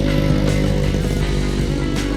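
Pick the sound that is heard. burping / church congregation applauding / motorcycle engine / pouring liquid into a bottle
motorcycle engine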